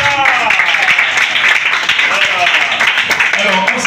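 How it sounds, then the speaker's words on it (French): An audience at a children's educational summer camp event applauds, a dense, loud wash of clapping with voices and cheers mixed in over a few seconds. "On applaudit Shaina"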